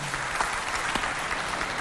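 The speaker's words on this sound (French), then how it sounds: "on applaudit quand même pour lui" Studio audience applauding on a Chadian TV variety show, a steady dense wash of clapping filling the whole moment at moderate volume with no talk over it.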